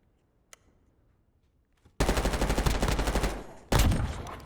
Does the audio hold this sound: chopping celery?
no